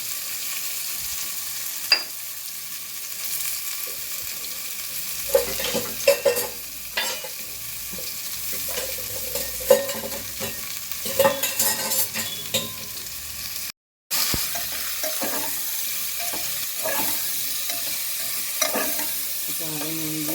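Spoon stirring coconut pumpkin curry with salt in a pan, scraping steadily with scattered clinks over a soft sizzle, close and continuous.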